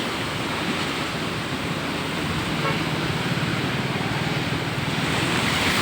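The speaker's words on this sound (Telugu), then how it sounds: "చూడండి కెరటాలు ఎంత పెద్దగా వస్తున్నాయో" Large sea waves crash onto Uppada beach beside a rock-lined coastal road, making a loud, continuous roaring surf that swells slightly toward the end, mixed with wind.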